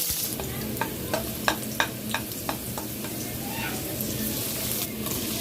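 Chopped onion sautéing in garlic oil for fried rice, a steady close sizzle with a series of sharp spatula taps against the pan early on, fading to plain frying.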